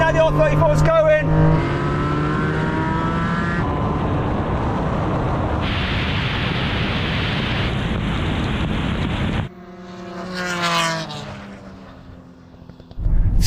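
A Nissan Skyline R34 race car accelerates hard in a loud, rising engine roar, mixed with wind rush, before it cuts off abruptly and a fainter engine note follows.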